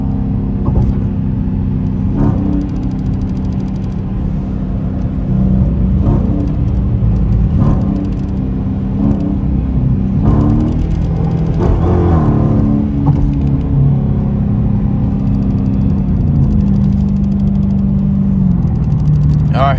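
Dodge Challenger R/T pulling hard on a highway, its engine rumble and whirring acceleration rising loudly from inside the car while someone talks over it.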